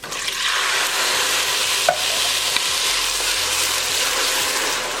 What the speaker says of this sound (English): I'm going to add the coconut milk now.